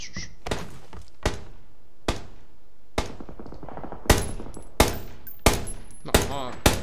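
Gunfire in the battle royale game PUBG, with sharp isolated shots fired at irregular intervals, a couple of seconds apart, growing louder and more frequent toward the end.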